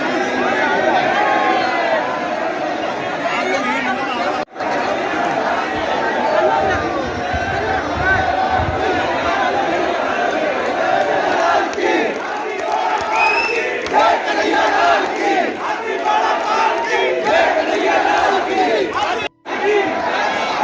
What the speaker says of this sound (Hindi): मैं भी दर्शन करने के बाद हजारों भक्तों की भीड़ और जयकारे के साथ हम सभी श्री ठाकुर जी के साथ रंग में रंगने को तैयार थे